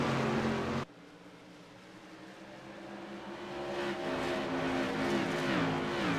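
Race cars circling an oval track late in a short-track night race, engines rising in a swelling roar as the pack approaches, with a sharp cut near the start and steady revving tones building toward the end.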